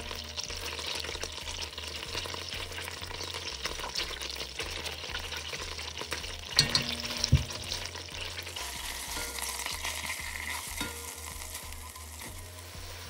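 Ginger and garlic paste frying in ghee for a Bangladeshi chicken biriyani, a steady close sizzle with repeated stirring scrapes and a couple of louder clanks partway through.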